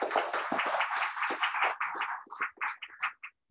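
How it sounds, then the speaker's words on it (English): A small audience at a reading series gives a reader a round of applause, a dense patter of hands from a few nearby people that thins into scattered individual claps before stopping. "Another round of applause for Dee Dee Champagne"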